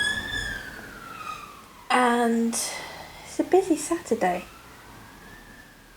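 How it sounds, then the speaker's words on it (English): An emergency vehicle siren wails faintly in the distance, a thin falling tone that fades in and out behind someone speaking nearby. "Sirens going past."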